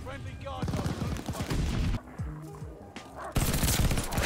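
Gunfire from the Itra Burst with zero attachments in Call of Duty Vanguard: loud, rapid clustered bursts of shots mixed with dense battlefield noise, steady and close throughout.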